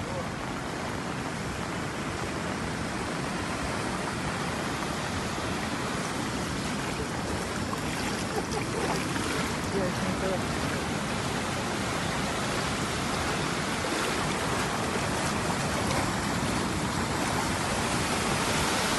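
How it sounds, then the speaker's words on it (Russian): Sea surf washing over the flooded Yalta embankment in Crimea during a storm, a constant dense roar of churning water with no breaks. "А это море."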